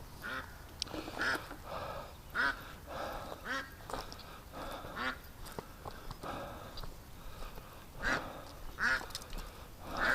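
A duck quacks repeatedly in a farm pen, agitated and upset, with bursts of loud, nasal calls coming in irregular clusters close by, alone without talk.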